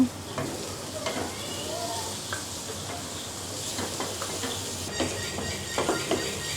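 Chopped onions fry with bay leaves in a pan, a steady moderate sizzle with soft crackles and occasional stirring scrapes, heard alone without speech.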